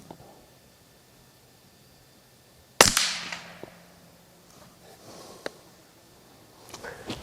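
A single sharp, loud report from a Rossi 8122 .22 Long Rifle fitted with a Hawke Vantage scope, fired outdoors at 80 metres, followed by a fading tail and faint handling clicks.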